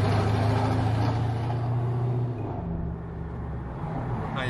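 A Jeep SRT engine rumbles low and steady while driving, with a deep drone that shifts pitch midway as the vehicle changes speed, heard close from inside the cabin.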